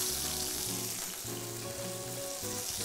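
Salt cod and onion fry in a pan, giving a close, steady sizzle with a bright crackling hiss and occasional stirring clinks, uninterrupted by voices.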